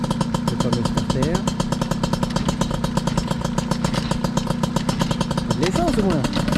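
An MBK 51 moped engine starts up and runs with a steady, buzzy two-stroke drone and metallic clatter, loud and continuous, while a voice talks nearby.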